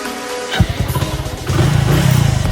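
A motorcycle about five or six years old, kept in good condition but overdue for a service, idles and then revs up with a throaty, pulsing rumble that grows louder and steadier toward the end.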